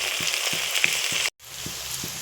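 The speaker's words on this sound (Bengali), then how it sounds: "লাল লাল করে ভেজে নেব" Onions with ginger and garlic frying until reddish-brown: a soft, continuous sizzle with faint rhythmic low knocks, briefly cut out midway, then resuming. No voices are heard.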